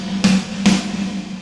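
Reverb tail of Cubase Revelation algorithmic reverb on a snare drum: two soft, diffuse swells of wash about half a second apart, each fading slowly over a constant low hum, with no crisp attack.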